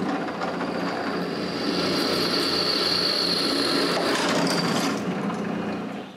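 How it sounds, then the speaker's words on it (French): Power drill boring a hole in a metal part for a homemade chainsaw wood mill, a steady whirring drone held for several seconds, close and alone with no talk. "Je dois percer un autre trou."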